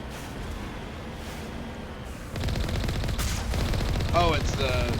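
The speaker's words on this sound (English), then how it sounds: "Someone's shooting at us," Rapid bursts of gunfire from hacked turrets in a Mass Effect-style sci-fi video game aboard the Normandy, starting after a couple of seconds and continuing densely to the end, with a voice speaking briefly over the shots.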